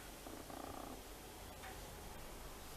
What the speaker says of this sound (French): Mon chat, s'il pouvait éviter de ronfler, ça m'arrangerait.